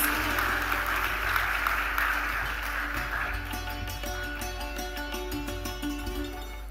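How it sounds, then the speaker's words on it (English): Audience applause welcoming a speaker at an Indian aviation event, heard as a steady wash of clapping over a constant low hum, louder at first and then easing to a thinner patter. "Can we welcome him with a big round of applause?"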